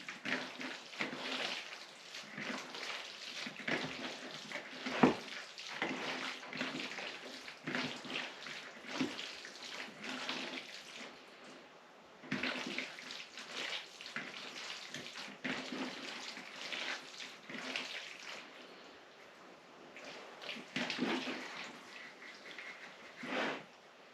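Tap water runs steadily into a sink while hands are washed in a home kitchen during manicotti preparation, a continuous splashing hiss with small shifts in flow and brief dips, no talking over it.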